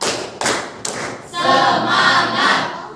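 A group claps together on a count during a clapping exercise, a few firm claps landing one after another, followed by a sustained murmur of crowd noise.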